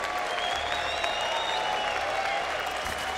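Steady, dense applause from a large arena crowd at the IEM Katowice 2016 StarCraft 2 Grand Final, cheering for player Snute, holding at an even roar throughout.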